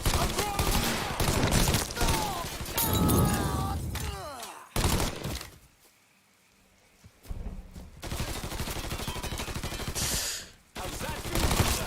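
Dense automatic gunfire in the video game Mafia 3, loud sustained bursts of rapid shots that stop briefly in the middle and then resume, with shouting voices mixed in.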